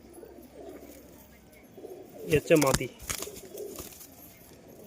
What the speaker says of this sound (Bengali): একদম জোড়া পাগলা কবুতর